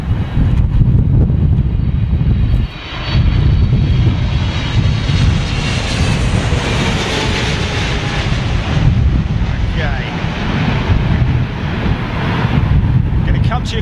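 Airliner landing at London Heathrow in strong storm winds, a loud continuous roar of engines and gusting wind noise across the whole stretch, with a brief dip near the start.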